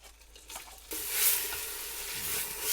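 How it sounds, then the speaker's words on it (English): Rice being stirred in sesame oil in a pot over medium heat for Korean shrimp porridge, a soft scraping and shuffle that gives way to a steady, brightening sizzle as the grains move through the hot oil. "Mix this around."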